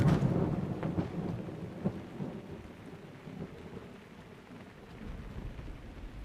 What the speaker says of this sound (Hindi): वैसे बारिश हो रही है बाहर